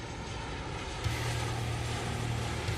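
Airplane taking off, a steady droning engine roar with a sustained low hum rising in after the first second, loud and continuous with no voices.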